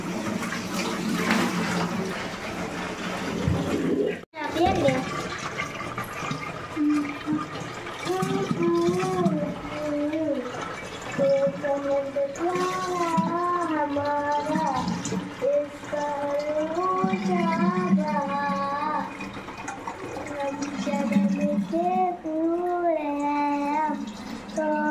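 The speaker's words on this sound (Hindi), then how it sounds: "तो इधर हम बर्तन भी धुल रहे हैं" Dishes being washed under a running tap in a home kitchen, with steady water flow and the clatter of utensils, plus a sharp knock early on. Someone talks over the water for much of the time.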